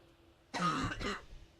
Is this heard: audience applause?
no